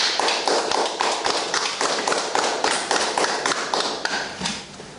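Church congregation applauding together in sustained, dense clapping that fills the space, steady and loud throughout before easing slightly at the end.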